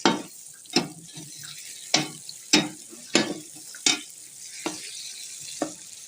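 Sliced onions, 300 grams, dropped into hot oil and ghee for mushroom biryani, sizzling softly while a spoon stirs and clanks against the pot in about eight sharp, regular strokes.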